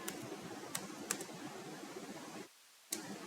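A pip install command typed on a computer keyboard comes through as sparse, close key clicks over a faint hiss, with a brief silent gap before a final keystroke.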